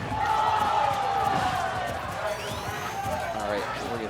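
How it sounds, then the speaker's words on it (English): A loud crowd murmurs and roars throughout at a Super Smash Bros. for Wii U tournament match, a constant wash of cheering voices with occasional louder shouts, heard from somewhat behind the action. "the Florida crowd getting really loud behind us"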